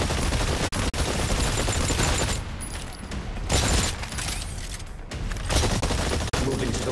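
Rapid gunfire at targets in ExoPrimal, a dense, steady stream of shots filling the whole stretch with only brief breaks, loud and up close.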